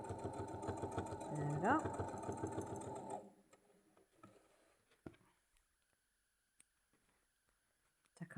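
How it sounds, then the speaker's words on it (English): A sewing machine runs a short back stitch on a coin purse, whirring in a steady rapid chatter for about three seconds before stopping, with a few soft clicks after and brief talk. "Do a bit of a back stitch."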